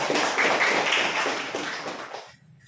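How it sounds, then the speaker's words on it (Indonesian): Classroom applause for a student, a brief burst of many hands clapping at close range that fades out quickly, with no one talking. "Silakan dulu, berikan aplaus"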